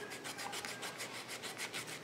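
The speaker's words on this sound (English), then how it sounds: "so I've been sanding" An antique liquor decanter is sanded by hand in quick, even back-and-forth strokes, giving a soft rhythmic rasp close up.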